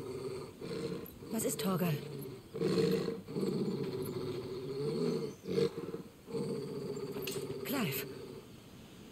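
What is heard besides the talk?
dog growling in Final Fantasy XVI video game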